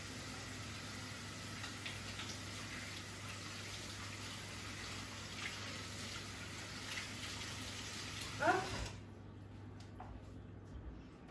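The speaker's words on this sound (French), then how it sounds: "on va se laver les mains" A tap runs steadily while hands are washed, a faint continuous splash that cuts off with a small clunk near the end, leaving near silence.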